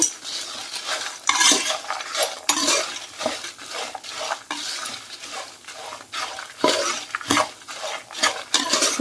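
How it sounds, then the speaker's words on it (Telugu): Dried red chillies and spices fry in a pan while a metal spoon repeatedly scrapes and knocks against it, irregular clattering strokes over a faint crackling sizzle, close and without talk. "ఇవన్నీ కూడా బాగా ఫ్రై అవ్వాలి."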